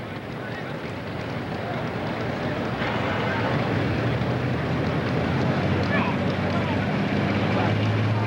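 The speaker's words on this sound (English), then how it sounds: "The big John Deere is driven by Laverne Knepper out of Wheeler, Illinois" A big John Deere tractor roars during a 1995 super stock tractor pull in Cape Girardeau, Missouri, a loud continuous engine drone with a rising low pitch near the end, heard amid wind and outdoor crowd noise.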